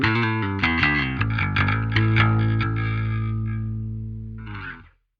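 Electric guitar played through a Parallax X cabinet simulation with a Ribbon 160 mic, loud distorted chords ringing out with chorus and effects, then a brief scratchy pick sound before fading, no talking.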